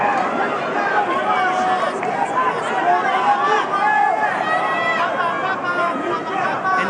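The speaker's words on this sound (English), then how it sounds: "Just listen to that crowd. They're enjoying this." A boxing arena crowd at the Pacquiao vs Barrios fight roars in a constant, loud babble, with a commentator talking over the din.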